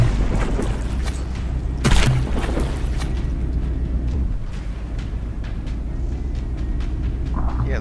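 Heavy naval cannon fire and a battleship gun turret blowing apart in the game From The Depths, heard as a loud continuous battle rumble with a sharper boom burst near the start, no talking.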